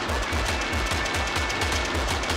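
Rapid machine gun fire in a video game, a continuous fast stream of punchy shots at an even rhythm, loud and unbroken throughout.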